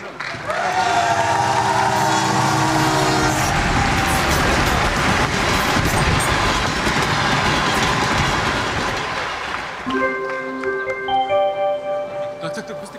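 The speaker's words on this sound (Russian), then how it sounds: "Поезд номер 375 Воркута, Москва прибыл на третий путь." Train arriving at a Moscow railway station: a loud rumbling, rolling roar with tonal squeals at the start, then a steady mechanical rush that eases off into chiming tones near the end.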